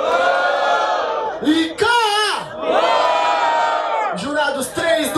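A crowd at a hip hop battle at the BDA Hip Hop Tour 2019 in Caraguatatuba shouts loudly for a rapper, the close, raucous yells rising and falling in bursts with a few individual whoops.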